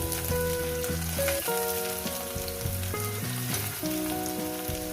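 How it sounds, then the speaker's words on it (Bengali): Chopped onion and green chilli fry in oil for a prawn and aubergine dish, with a steady close sizzle running under background music. "এটা মিনিমাম এক থেকে দেড় মিনিট কি দু মিনিট এটাকে ভেজে নেব"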